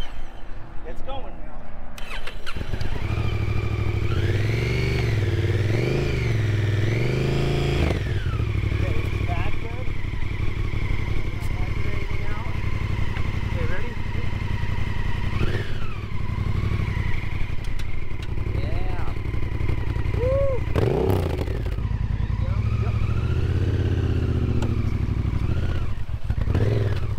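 A motorcycle engine revs and drones continuously while the heavy bike is steered and hauled free, with clatter and scraping mixed in and people talking throughout.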